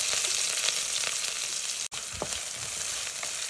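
Onion fries in oil in a kadai with a steady, close sizzle, broken by one brief dropout and a few soft stirring scrapes; no voices.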